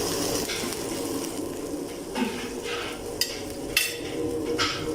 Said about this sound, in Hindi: चिकन को अच्छी तरह से आप भून लें